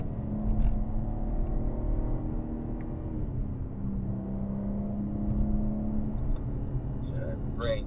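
A BMW M car lapping a race track, its engine holding a steady drone that eases and picks back up as the driver brakes and touches the throttle, close and continuous under a voice coaching through the corner.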